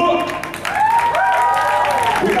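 Applause for the brass section of a band, trumpet and saxophone players, at a taping of MTV Made, steady loud clapping with crowd voices and shouts over it throughout.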